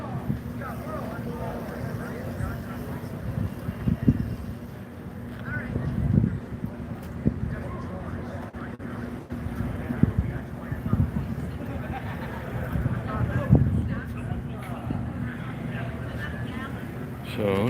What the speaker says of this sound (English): There's a decent breeze.